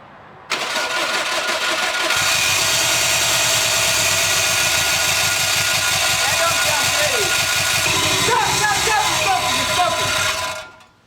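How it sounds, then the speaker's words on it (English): A Subaru WRX STI engine cranks briefly, then catches and settles into a loud, steady running idle with faint whine and clatter, heard up close and alone for about eight seconds before cutting off. "it's not just going to spin the engine, it's going to start the engine"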